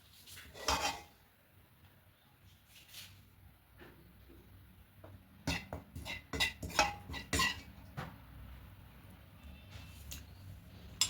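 A pan holding an egg curry is lifted off a gas stove. Scattered metallic clinks and scrapes of pot and utensils ring out, sparse at first and then a busier cluster of knocks, fairly close and with no talking.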